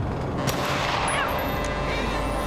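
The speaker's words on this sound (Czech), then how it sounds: "při výstřelu z hlučné zbraně" Gunfire from a loud weapon in the video game GTA 5, dense sharp reports crackling over a busy, noisy game soundscape, fairly faint overall.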